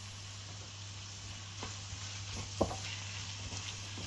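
Spices, red chilli and black salt roasting in a pan for a Punjabi guar bean (gawara phali) dish, giving a steady low sizzle with a few soft stirring scrapes and one sharper clack near the middle.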